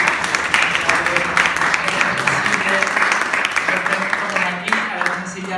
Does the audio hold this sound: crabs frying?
no